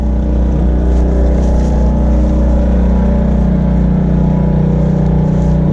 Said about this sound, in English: that's the motor running